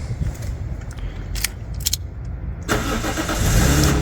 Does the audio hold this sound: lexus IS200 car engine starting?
yes